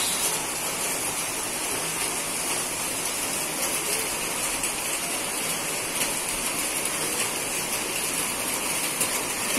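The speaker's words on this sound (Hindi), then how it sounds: "कितनी बारिश हो रही है सुबह से," Heavy rain pours down in a dense, continuous hiss, steady and loud with no pauses or voices.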